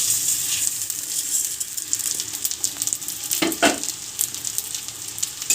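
Rice is fried in a pan with cashews and raisins, giving a steady close hiss broken by scraping stirs and a sharper rustle partway through.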